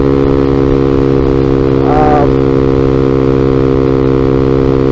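A Vader ZS190 motorcycle, a Honda Grom clone, hums steadily and loudly up close throughout the ride, its engine drone constant with a brief rise in pitch midway.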